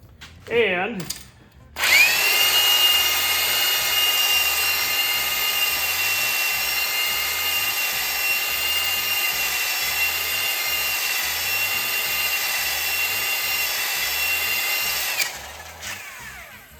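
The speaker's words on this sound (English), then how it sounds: "you take your lubed up cylinder. This is actually a new hone." Drill-driven hone working inside a lubricated small-block Chevy engine cylinder: after a brief start-up whir, a loud steady high drill whine runs for about thirteen seconds over a rhythmic low chatter from the stroking hone, then winds down.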